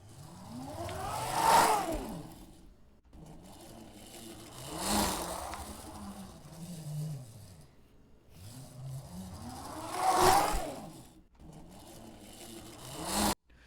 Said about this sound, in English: I took my a Lego car with the wheels and drove it across like the ground, like the floor or the table